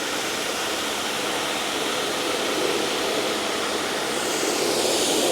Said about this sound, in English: So let's get into copious amounts of rinsing